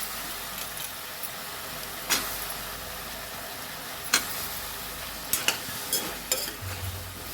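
Drumstick and eggplant pieces sizzle steadily in a hot pot with softened tomato for sambar while a utensil occasionally scrapes and stirs, with a few sharp clinks over the constant frying hiss.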